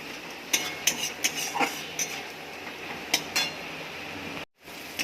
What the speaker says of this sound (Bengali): একটু ভালো করে কষে দাও